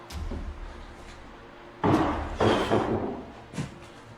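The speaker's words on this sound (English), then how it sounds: "there's a loud sound of something wooden slamming or falling down" Upstairs in a house, something wooden slams or falls with two loud, close thuds in quick succession. A fainter knock follows a moment later against a quiet room background.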